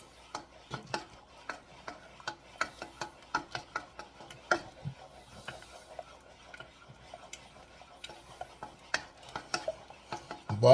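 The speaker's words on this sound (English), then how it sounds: "But you never want to stop stirring." A utensil taps and scrapes in a quick, steady rhythm against a pan, continuously stirring English-style scrambled eggs as butter melts, the sounds close and fairly quiet with no talking.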